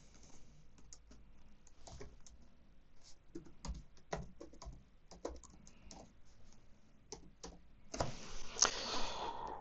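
A Wi-Fi password is typed on a keyboard in a quiet room: close, irregular key clicks in quick clusters, ending in a faster, louder burst of keystrokes.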